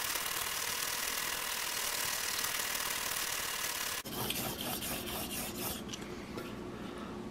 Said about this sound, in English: Now I'm going to sharpen it again.